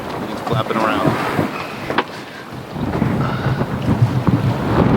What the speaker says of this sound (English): There's still these residual gusts here.